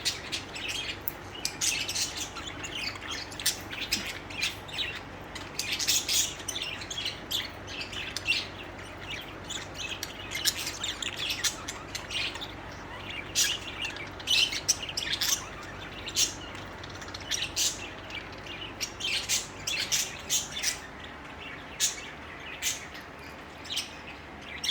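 Budgies and lovebirds chirp and sing continuously in a busy, overlapping chorus of sharp tweets and warbles, fairly close and steady throughout with no talking.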